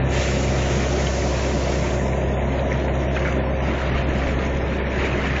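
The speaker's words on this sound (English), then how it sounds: "See it churn in there. So the blowers push air into the system." Aeration tank at a wastewater treatment plant, water churning steadily as blowers push air through it, a loud, constant roaring rush with no breaks and no talking.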